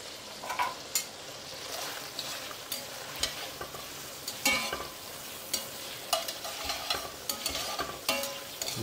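Prawns sizzle in a hot pan for a tomato bucatini while they are stirred, with repeated scraping and clinking of the utensil over a steady frying hiss.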